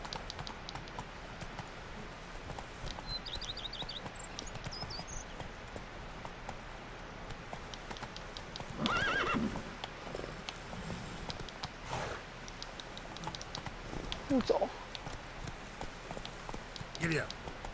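A horse trotting in the video game The Witcher 3, with a steady clip-clop of hooves running under a low background, a louder burst partway through, and a voice speaking over it.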